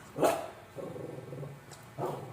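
A dog gives two short, sharp barks, separated by a low, grumbling growl, fairly close and without any talking.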